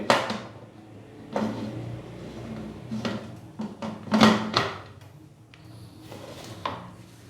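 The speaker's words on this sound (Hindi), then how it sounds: "पानी डालने के बाद अभी हम प्रेशर कुकर का जो ढक्कन है वो लगा देंगे।" A pressure cooker lid is fitted onto a pot of beef yakhni in a kitchen, giving a few close metallic knocks and scrapes spread over several seconds.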